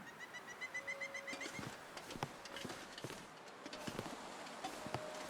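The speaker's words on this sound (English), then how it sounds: "Got the birds out this morning." Birds chirp faintly on a quiet morning in The Long Dark survival game, a short run of high calls near the start followed by sparse chirps over soft rhythmic clopping steps.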